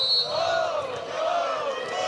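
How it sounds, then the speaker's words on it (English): A crowd at Reed Arena cheers during a close second set of a women's college volleyball match, a rising and falling roar of voices heard from within the stands. "Crowd here at Reed Arena into it in this close second set"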